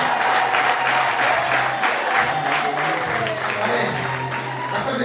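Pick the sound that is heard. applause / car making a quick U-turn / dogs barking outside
applause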